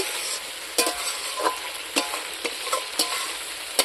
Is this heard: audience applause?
no